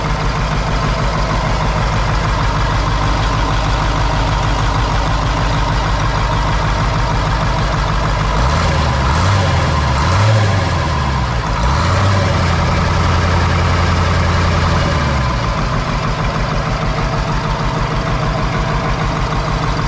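Cat 3208 diesel engine in a 1985 Ford C8000 truck running loudly and close, a heavy steady low idle whose pitch briefly rises and wavers as it revs before settling back.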